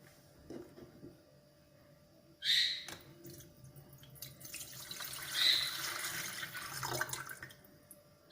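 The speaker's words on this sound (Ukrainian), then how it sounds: "а потім перельємо воду у посудину та дамо її охолонути" Water poured into a vessel to cool after boiling during a water-purification experiment, heard as a few quiet, intermittent splashes and trickles in a still room.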